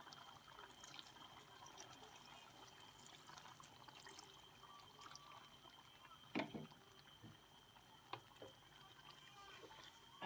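Water poured into a pot of ekwang, a Cameroonian dish, on top of ground spices and oil; a faint, steady liquid wash with a few small clunks and splashes, quiet and close.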